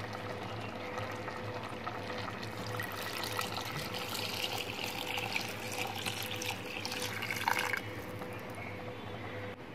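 Water pours and splashes into a pot of mutton pulao with rice, a continuous liquid rush with bubbling and dripping that swells slightly before cutting off near the end.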